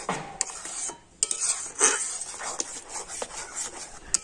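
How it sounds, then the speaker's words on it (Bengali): Thick homemade potato batter for crisp chips, salted and stirred continuously with a ladle, gives close, irregular scraping and clinking strokes with brief pauses between them. "তবে কিন্তু এভাবে কন্টিনিউ নাড়তে হবে।"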